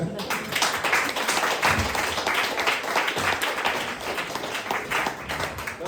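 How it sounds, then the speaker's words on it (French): Audience applause for a comedian at a French-language stand-up comedy show, a dense wash of clapping that holds steady for several seconds, with some voices mixed in. "Un applaudissement pour Vincent, s'il vous plaît."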